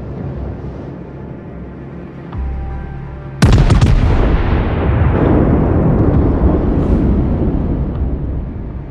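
Naval combat in a warship game: a low rumbling engine hum gives way to a massive sudden blast of heavy gunfire, followed by a long rolling boom and crackling debris that slowly fades.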